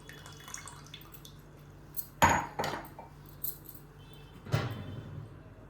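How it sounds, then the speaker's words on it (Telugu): Tamarind juice poured into a cooking pot for pachipulusu, heard as a few short, separate splashy gushes against a quiet background, the loudest around the middle and near the end. "ముందుగా తీసుకున్న చింతపండు రసాన్ని ఇందులో పోసుకోవాలి."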